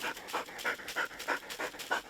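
A pointing dog hunting capercaillie in a Swedish Lapland forest pants close and quick, rhythmic breaths in short regular bursts with a faint whine-like edge, heard alone without talk.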